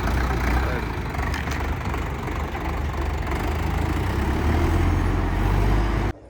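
An Indofarm 3055 tractor engine idles with a steady low rumble, nearby and constant, cutting off abruptly at the end.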